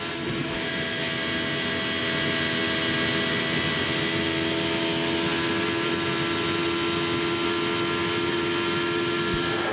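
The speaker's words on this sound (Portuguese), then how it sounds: "Vamos sentir um pouquinho a energia do motor dele." An IndyCar race car engine at the Kentucky Indy 300 oval screams in a continuous loud, high-pitched whine, sustained without break as if heard from onboard at speed.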